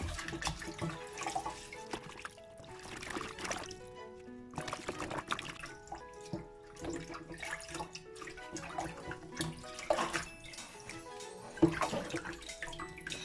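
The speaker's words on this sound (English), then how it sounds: "the calaloo will come right off. Okay, give it a good shake" Jamaican calaloo leaves swished and shaken in a basin of water, close irregular splashing and sloshing in bursts with short pauses between.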